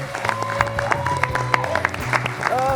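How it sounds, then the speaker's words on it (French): Studio audience applause on a French-language talk show greets a former Miss Rwanda, steady clapping heard under music with strong rhythmic bass, fairly loud throughout. "Sous vos applaudissements"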